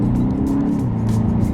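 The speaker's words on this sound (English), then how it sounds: "But we'll see what the 4-cylinder sounds like." A 2025 BMW X2 M35i's four-cylinder engine drones steadily from inside the cabin as the car drives, a loud, even hum with no talk over it.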